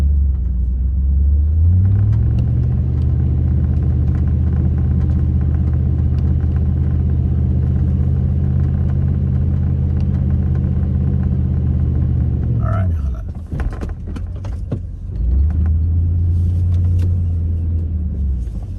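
A small pickup truck in four-wheel low churns through soft sand in a desert wash, its engine droning steadily under load, easing off briefly and then pulling again; someone talks over it.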